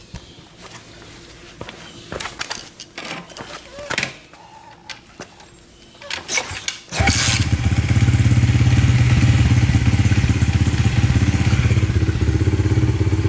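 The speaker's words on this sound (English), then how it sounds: "now this engine is going to run." A Lifan Chinese pit bike engine, wired into an original Honda CRF50/CRF70 harness, starts and runs with a loud, steady, close idle drone after several seconds of clattering and thumps.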